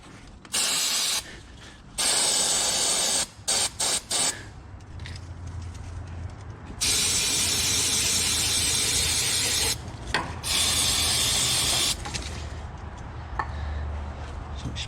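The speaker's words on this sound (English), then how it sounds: "So we sprayed it with some brake clean." Brake cleaner sprayed from an aerosol can onto a diesel high-pressure fuel line in a truck's engine bay, heard as several loud hissing bursts of varying length separated by short pauses, with a low mechanical rumble underneath.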